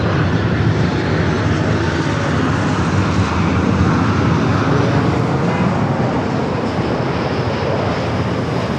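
A Boeing 777-300ER's jet engines rumble steadily at LAX as the airliner taxis toward takeoff on the north side, a loud, continuous broadband roar with no breaks throughout.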